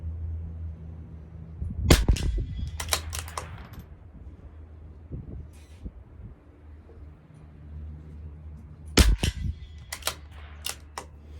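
A CZ457 LRP rifle fires Eley Tenex Biathlon rimfire ammunition at a 50-yard range: sharp, fairly quiet cracks arrive in two clusters of several shots each, separated by a long, quiet gap.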